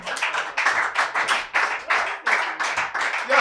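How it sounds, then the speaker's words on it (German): Studio audience applause greeting a guest on a German talk show, a brisk, close run of clapping that swells in repeated bursts for several seconds. "Applaus, Applaus"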